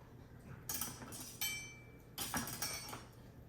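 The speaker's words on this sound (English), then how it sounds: "I'm gonna go ahead and slice up this meat here." A knife slices through a pork loin roast on a board in three quick, rasping strokes with light clinks, fairly faint and close, with no talk.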